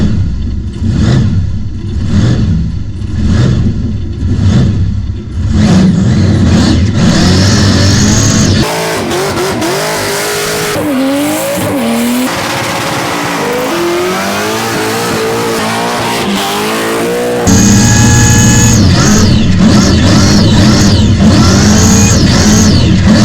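Cars revving hard at a burnout competition at a raceway, a loud continuous engine roar rising and falling with sustained high revs and tire squeal, close and dominant throughout, no talk.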